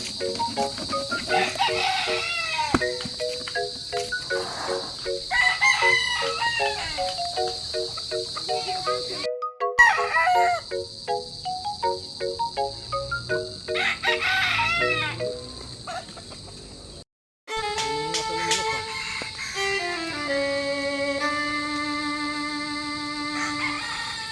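Roosters crow repeatedly over steady clucking from a flock of hungry chickens, loud and close, with a constant high insect-like drone behind them and a brief dropout near the end.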